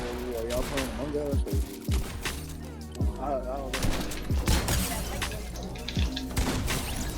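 Assault rifle and shotgun fire from a Fortnite Chapter 2 match cracks in rapid, irregular bursts of sharp shots mixed with shattering impacts, dense and continuous across the stretch.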